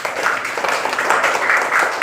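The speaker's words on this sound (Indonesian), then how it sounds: "Tepuk tangan untuk Al-Fat." Schoolchildren in a classroom applauding a classmate, a brief burst of scattered, uneven hand clapping with light background chatter.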